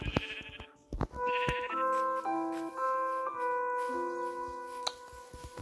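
Sheep bleating in the Minecraft video game, two short bleats near the start, followed by sustained electronic game music notes, with a few sharp clicks scattered through.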